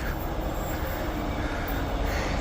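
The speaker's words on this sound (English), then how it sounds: "2-car Midland train coming in." A 2-car Midland train arrives at East Perth Station, a steady, loud rumble of wheels on rails with a faint squeal, heard up close and without talk.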